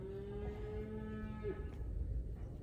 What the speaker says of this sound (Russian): тут коровы ходят